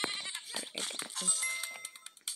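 Several short sheep bleats come in quick succession, thin and slightly synthetic, from sheep being attacked in the video game Creepy Alien Simulator, alone without any talking.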